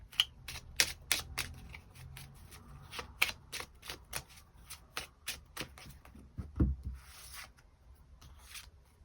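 Tarot cards are shuffled and drawn close up, a rapid series of crisp riffling flicks and soft slaps in uneven bursts, followed by quieter sliding and tapping of individual cards, with no voices.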